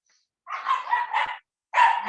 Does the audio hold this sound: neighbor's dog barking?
yes